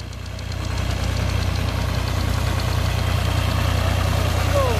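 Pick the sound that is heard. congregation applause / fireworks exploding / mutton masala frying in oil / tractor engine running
tractor engine running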